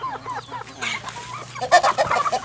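Young hens in a first-batch coop on a Thai farm cluck and chatter close by, with a denser burst of overlapping clucks toward the end.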